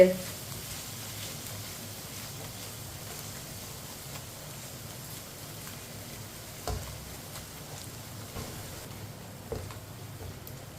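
Mutton gosht simmers in masala in a pot, a faint, steady sizzle and bubbling with occasional soft stirring knocks, while someone talks.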